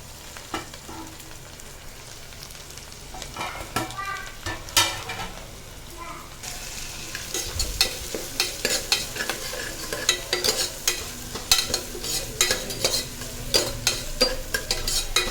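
Chopped onion fries in hot oil while being stirred, a steady close sizzle under repeated scraping and clacking of the spatula against the pan, growing busier toward the end.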